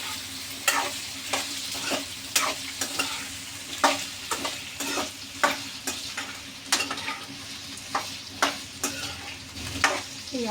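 Potato pieces fried in oil for a potato and green chili fry are stirred in the pan, with regular scraping strokes of the spoon against the pan over a continuous sizzle.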